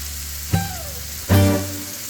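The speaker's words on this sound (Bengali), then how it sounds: "বেগুনটা 2 থেকে 3 মিনিটের জন্য একটু ভাজতে হবে।" Eggplant pieces drop into a wok with a little hot oil, making two sharp sizzle bursts that settle into a steady frying hiss, close and loud with no talking.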